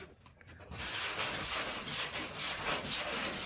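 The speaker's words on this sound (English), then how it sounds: "Bit of a sand and it should be right?" Sandpaper rubbing flaky paint off an old hand-painted sign starts after a brief quiet moment, then continues as loud, close back-and-forth scraping strokes in a steady rhythm.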